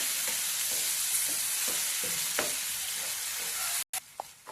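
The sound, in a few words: onion leaves frying and being stirred with curd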